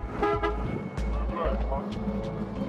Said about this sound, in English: Passing cars sound their horns in support.